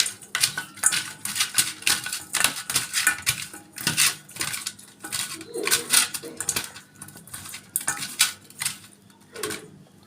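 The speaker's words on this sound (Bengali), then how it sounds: "লবণ, হলুদ গুঁড়ো ভালো করে মিক্স করে নিতে হবে।" Fish being mixed with salt and turmeric powder in a metal bowl, with irregular clinks, taps and scraping rattles of utensil against metal in quick uneven bursts, close by, with faint talk at moments.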